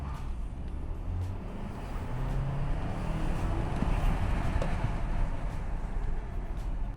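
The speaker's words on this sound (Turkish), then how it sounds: "Şimdi arkadaşlar bir 0-100 deneyeceğiz. Performans moduna aldık arabayı." A Lynk & Co 900 in performance mode accelerates from 0 to 100 km/h, heard from inside as a low, steady rumble and road noise that swells gradually, fairly subdued rather than loud.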